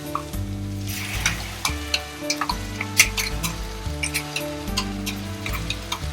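Spice paste for Irani chicken keema sizzles and crackles in a hot pan, a steady close frying hiss with stirring scrapes over a low background hum.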